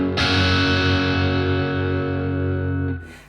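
A single sustained electric guitar chord rings out with overdriven, gritty distortion from an overdriven amp alone, holding steady for about three seconds before being cut off.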